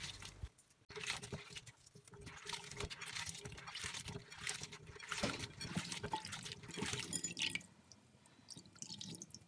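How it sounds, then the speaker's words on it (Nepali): Cold water pours and splashes into a bowl to rinse sliced onions for pink pickled onions, a steady close trickling and dripping that runs for several seconds with no voice. "अब चाहिँ म चिसो पानी हाल्दैछु"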